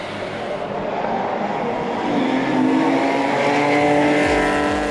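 Supercar race cars roar along the straight at the Assen circuit, a loud sustained engine note that climbs as the cars close in and pass nearby.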